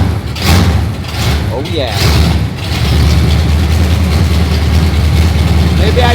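A 1979 Jeep Cherokee Chief with a 360 V8 cranks with a few whirring turns, catches, and settles into a loud, steady, rumbling idle up close while someone speaks briefly.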